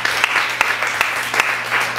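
A church congregation claps in praise, a steady wash of applause from many hands filling the room, fairly loud and without speech.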